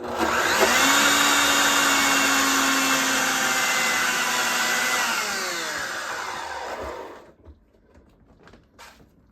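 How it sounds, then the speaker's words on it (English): A blender whirs loudly and steadily through dandelion sunflower seed pesto for about seven seconds, its motor pitch shifting slightly, then winds down and stops, leaving faint kitchen handling sounds. "I'm just going to give it one more blend"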